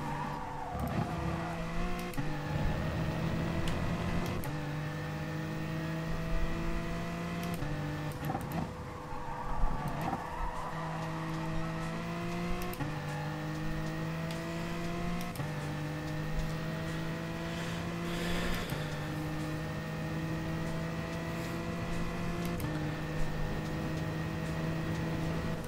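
A BMW GR3 race car in Gran Turismo Sport sends out a steady, loud engine note that climbs in pitch and drops at each gear change, with several shifts in a row and no talk.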